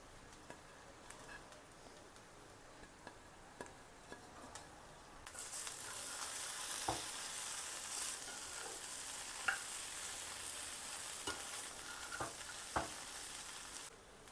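Sago and potato khichdi with peanut powder stirred in a pan, a soft scraping and gentle sizzle that grows louder partway through, with occasional sharp clicks of the spoon against the pan.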